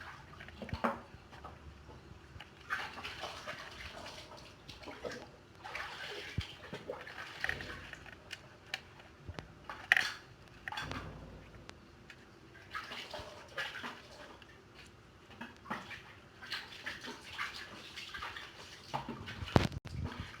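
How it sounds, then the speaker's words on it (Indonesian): Roasted ginger being washed, soaked and scrubbed by hand in water, giving steady splashing and sloshing with small drips at close range, no talk over it. "Tadi jahe yang sudah dibakar ini kita cuci, kita rendam,"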